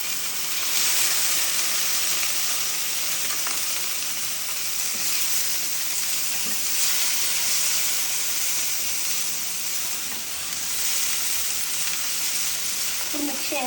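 Loud, steady sizzling and hissing fills a hot pan as tomatoes go in for garlic cashew noodles, a continuous frying roar with no pauses.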